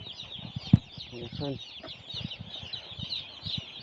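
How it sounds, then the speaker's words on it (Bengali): Chickens in a poultry shed cluck and squawk close by, with short repeated cackles over a bustle of birds, while a person briefly speaks. "হিটার তলে মুরগি আছে 600 করে 8টা রাউন্ড"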